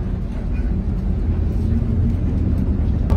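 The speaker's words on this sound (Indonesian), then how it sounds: "Kalau aku lihat bus ini tuh pakai sasis dari Mercedes-Benz 1526" A bus built on a Mercedes-Benz 1526 chassis drives along, heard as a continuous low engine and road drone from inside, steady and fairly loud with no music or talk.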